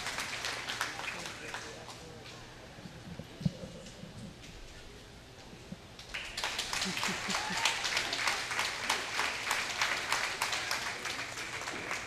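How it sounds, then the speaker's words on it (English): At a 2020 Allen County junior fair livestock show, a voice speaks over a quiet arena, then an audience bursts into sustained, rapid clapping that continues to the end. "let's give all six of these exhibitors a round of applause"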